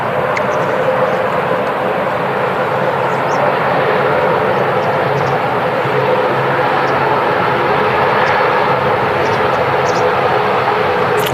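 An airliner taxiing at Manchester Airport gives a steady, loud jet engine rumble and whine that holds evenly throughout, with a faint voice now and then.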